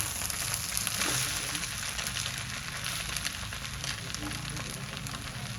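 Vegetable fried rice stir-fries in a pan with a steady, dense sizzle that carries on without a break, fairly close and even in loudness.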